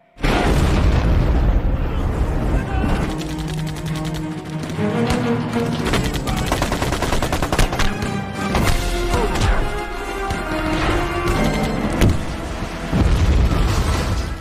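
Loud, dense booming explosions and crashes roll on continuously, layered with dramatic music, with no quiet gaps throughout.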